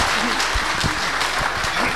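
Applause from gathered classmates at a 20-year reunion of the 1986 graduating class of School No. 55: steady, dense clapping that fills the whole stretch at an even level, with some faint voices mixed in.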